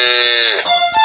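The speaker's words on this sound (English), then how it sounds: "C-O-W, cow." A cow mooing once, a loud, close, drawn-out bellow that drops in pitch and then ends in a short second call.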